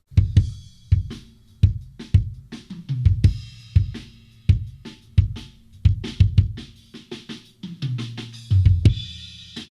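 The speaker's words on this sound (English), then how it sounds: "that's gonna give me that clicky sound," A punchy kick drum EQ'd for a live gig thumps in a steady pattern with a boosted bright, clicky attack on each hit, alongside other drum hits and cymbal wash, close and loud.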